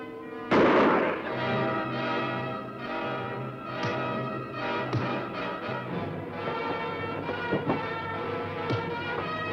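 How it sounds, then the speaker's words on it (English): A single loud gunshot cracks out near the start, probably a Western-style revolver, and its blast rings and reverberates under a sustained orchestral music bed that plays through the rest of the clip. "No, I will fire the first shot."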